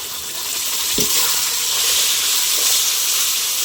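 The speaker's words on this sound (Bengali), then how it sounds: "মশলাটা ভালো করে কষে নেব।" Spice paste frying in a pan for a chicken curry, giving a steady, loud broadband sizzle with a brief stirring scrape near the start and no talking.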